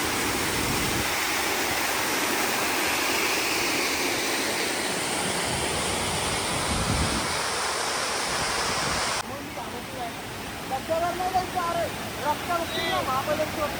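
A waterfall near Adai village in Panvel gives off a steady, loud roar of rushing water. Partway through, the roar drops to a lower level and voices talk over it.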